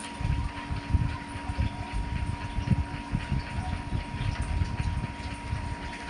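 Distilled water pours steadily into the cells of a battery, a close, continuous liquid trickle and gush with no speech over it.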